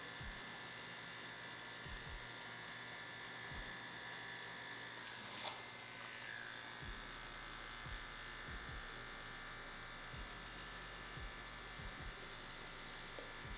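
Dragonhawk X8 tattoo machine with a 4mm stroke running, a faint steady electric buzz with a constant high whine, sounding alone throughout.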